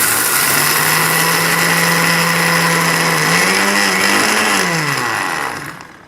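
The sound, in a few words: grinding roasted chickpeas into fine powder in grinder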